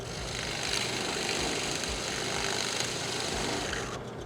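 Drill press fitted with a Forstner bit boring slowly into wood: a steady whirring motor drone with a rough cutting grind running throughout, fairly close, then easing near the end, with no speech.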